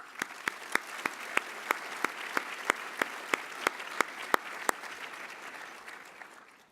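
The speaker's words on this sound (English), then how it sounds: "I think that deserves a round of applause" Applause at a corporate awards dinner in Canada: a broad, sustained crowd clap with one close, loud pair of hands striking in a regular, even beat on top, the whole round easing slightly toward the end.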